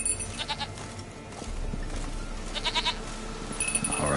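Several short goat bleats from a video game come in two bursts, mid-distance and clear, over ambient game sound with a brief bell-like chime near the end.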